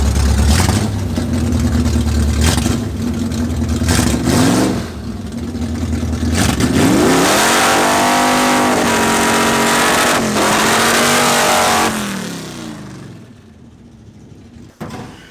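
A drag car's engine, loud and close, idles roughly and then revs in rising and falling sweeps. It settles into a steady drone before cutting off into near silence.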